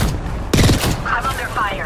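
Gunfire in the Apex Legends video game: a sudden close burst of rapid shots cuts through a steady background, followed by fainter ringing effects and game sounds.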